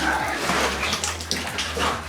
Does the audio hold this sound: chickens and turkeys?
no